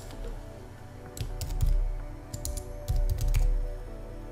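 Fingers type on a computer keyboard in short irregular bursts of light key clicks, with a low background hum throughout and no talking.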